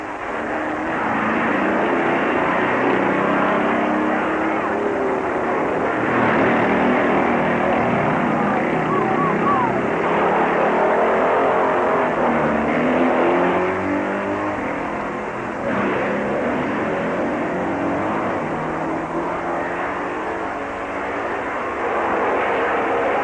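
Race cars roar through the final curve before the finish line at the 1958 Catalina Grand Prix, a loud, continuous engine drone that swells and eases slightly as the cars pass.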